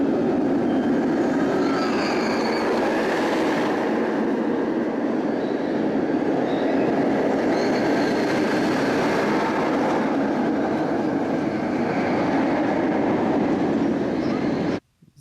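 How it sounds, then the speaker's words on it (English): Georgia Scorcher roller coaster at Six Flags Over Georgia, heard from off the ride: a loud, steady rushing roar of the train running along the track for about fifteen seconds, cutting off abruptly at the end. "So that's it for Georgia Scorcher, the last roller coaster there."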